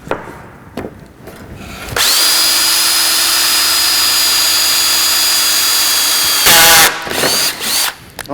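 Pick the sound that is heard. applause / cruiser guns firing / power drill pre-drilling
power drill pre-drilling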